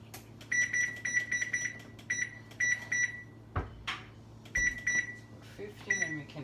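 Repeated short electronic beeps from an oven timer being set while baking chickpea breakfast cookies at 350 degrees, chirping in quick clusters alongside a steady appliance hum and a few kitchen clatters.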